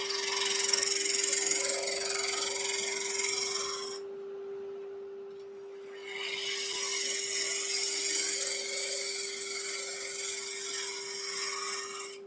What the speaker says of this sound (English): I'm going to start with a 3/8 gouge. So I'm just going to true that blank up.